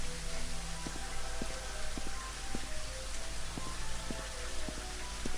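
Steady rain in the game Daggerfall Unity, a dense, even hiss of falling drops with faint patter, continuous and fairly loud throughout, no voices.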